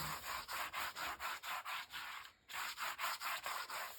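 Paper being burnished down by hand for a ladybug-themed album, a soft rhythmic rubbing repeated about a dozen times in steady strokes with one short pause, close and quiet with no voices.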